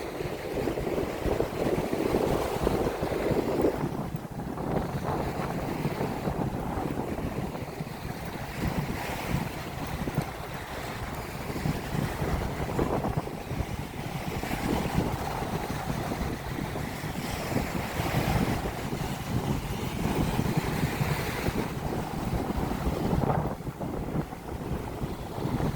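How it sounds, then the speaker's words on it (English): Steady wind blowing across a Diamond Head beach on a breezy day, with surf washing in underneath; a continuous, fairly loud rushing that buffets the microphone throughout, no talking. "It's a kind of breezy day."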